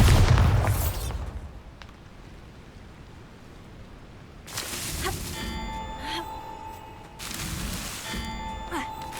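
A Bombarda spell explodes in Hogwarts Legacy, a single loud, deep boom at the start that fades into a quiet game ambience, followed by brighter magical bursts and chimes.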